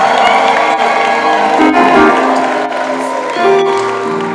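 A crowd of mothers and girls raises loud ululation and cheering in praise of God at a Rwandan worship gathering, with sustained overlapping trills, shouts and clapping throughout.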